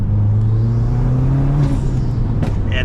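Car engine fitted with a Cobb NexGen Stage 2 tune, revving loud and close in a steady held drone that climbs slightly, then eases off near the end.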